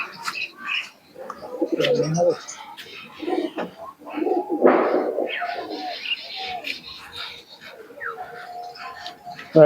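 Pakistani pigeons coo in soft, throaty bursts at close range, with scattered chirps and some handling noise around them.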